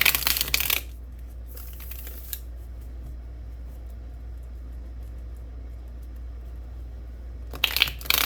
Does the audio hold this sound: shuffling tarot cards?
yes